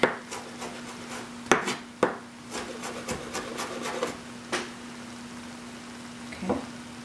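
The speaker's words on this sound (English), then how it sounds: "we're going to chop this up. And by chopping it up, you're really releasing all those oils" Sharp knife strikes against a cutting board, several distinct chops spaced irregularly over a quiet background hum.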